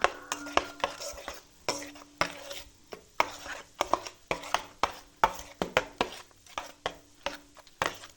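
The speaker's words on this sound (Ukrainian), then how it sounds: "Перемішую." Dough for lazy cabbage pies is stirred in a bowl, producing a quick series of uneven knocking and scraping strokes, fairly close, with short quiet gaps between them.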